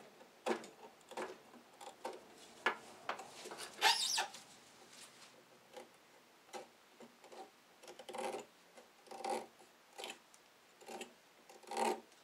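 Hand trimming of a homemade snowblower replacement paddle, heard as a series of raspy filing or rubbing strokes in bursts, fairly close and moderately loud, with no talking.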